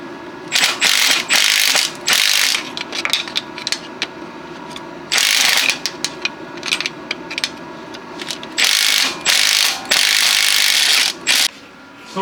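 A hand ratchet clicks in rapid bursts while tightening bolts on a Honda Pilot transmission, loud close-up ratcheting runs separated by brief pauses.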